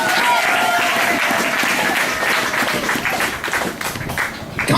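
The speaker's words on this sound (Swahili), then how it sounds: "ushangilie kwa makofi makubwa kwa Yesu" Church congregation breaking into loud, sustained applause at a worship service, dense clapping that fills the room and gradually thins toward the end, with a few voices mixed in.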